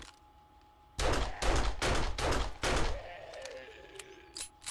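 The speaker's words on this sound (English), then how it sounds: "they fixed the noises of the gunshots from turrets" Automated turrets fire in bursts in the video game 7 Days to Die, loud rapid shots rattling out for about two seconds before trailing off into quieter ambient noise.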